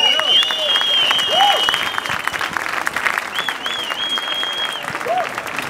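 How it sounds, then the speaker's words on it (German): Audience applause at a book-release laudation in Berlin, steady dense clapping filling the room for several seconds, with a few whistle-like tones and faint voices mixed in. "Spenden Sie Applaus für dieses fantastische Bild."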